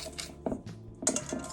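White and brown sugar being mixed together in a bowl, heard as a few sharp utensil clinks and scrapes against the bowl in short close bursts, with no voices.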